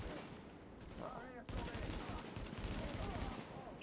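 Gunfire in the video game Tom Clancy's The Division: a steady burst of rapid shots over ambient game noise, close and fairly quiet, with a voice briefly audible in the background.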